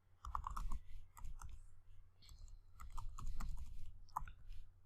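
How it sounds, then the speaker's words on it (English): Keystrokes on a computer keyboard while an email address is entered, coming in short uneven bursts of clicks with brief pauses, close and fairly quiet. "I'm typing my email ID over here"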